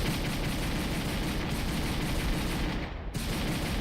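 Rapid pistol gunfire in a video game, a dense, steady stream of sharp shots fired in quick succession at moderate loudness, with a brief dropout near the end.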